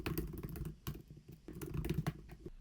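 Text is typed on a computer keyboard for a Photoshop design, with quick clusters of close, soft key clicks coming in two bursts separated by a short pause and no talking.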